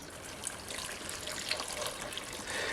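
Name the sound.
three cups of water poured for orange pie syrup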